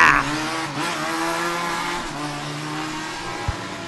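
Formula Student endurance race cars scream past on a track, engines revving loud and close, with a sharp bang near the end and no talk.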